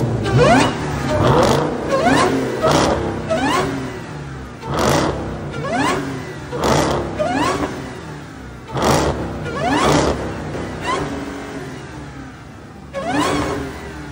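Repeated aggressive revs from a loud straight-piped, supercharged 2023 Dodge Challenger Redeye Jailbreak Hellcat engine, rising and falling in sharp bursts with brief pauses between, close and raw-sounding.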